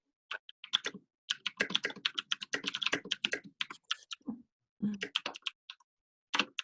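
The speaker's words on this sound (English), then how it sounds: "Somebody's typing and I can hear it." Rapid bursts of clicky keyboard typing come in short runs with brief pauses between them, close and distinct against a quiet background.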